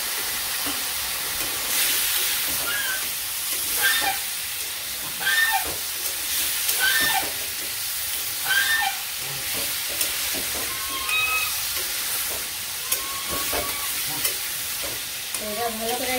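Turmeric, cumin and chili powder fry in a village kitchen pan, a steady close sizzle and hiss that runs throughout, broken by repeated scraping and stirring clinks, with no talking.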